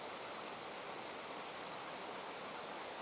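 A shallow waterfall pours in a steady, even hiss of rushing water that holds unchanged throughout, with no voices.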